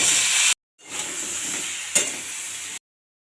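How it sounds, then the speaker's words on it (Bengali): Raw plantain frying in oil in a kadai, a bright continuous sizzle in two bursts separated by brief silences, with a short sharp hiss flaring up partway through. "কাঁচকলা ভেজে নেব।"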